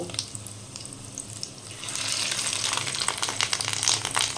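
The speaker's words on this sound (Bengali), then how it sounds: "বাকি মাছের ডিমগুলো আমি ঠিক একইভাবে ভেজে নেব" Fish roe fritters (macher dimer bora) frying in hot oil, a steady close hiss that swells and grows denser partway through, with no talking.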